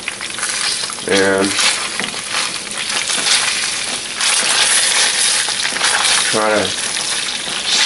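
Chicken skin bits frying in rendering chicken fat on low heat, a steady loud sizzle and crackle throughout, with metal tongs scraping and turning the pieces and brief clanks; a person talks briefly partway through.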